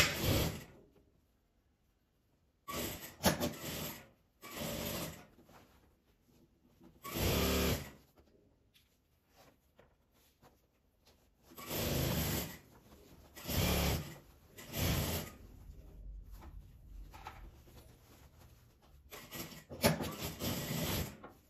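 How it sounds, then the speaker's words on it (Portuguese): A sewing machine stitching fabric for a toiletry bag runs in several bursts of steady mechanical whirring, each a second or two long, separated by quiet pauses, close and clear. "Vou passar a costura e dar a volta e chegar aqui"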